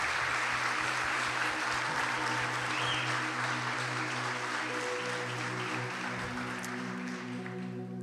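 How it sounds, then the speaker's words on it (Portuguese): A church congregation gives a sustained round of applause for a special couple, dense clapping that carries on for several seconds while a low musical drone hums underneath. "Uma salva de palmas para esse casal"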